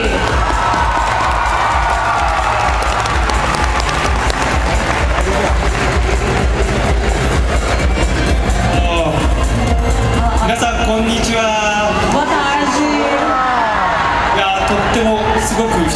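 A concert-hall crowd at an anime convention cheers, whoops and applauds loudly and continuously as a performer takes the stage at a show, with voices shouting throughout and tonal calls rising near the end.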